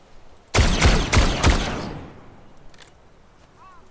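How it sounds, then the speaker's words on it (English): Four quick loud video game gunshots in a rapid burst, followed by a fading echo and quiet background. "So I heard gunshots."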